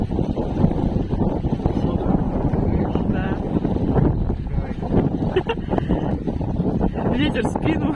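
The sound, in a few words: wind blowing on a river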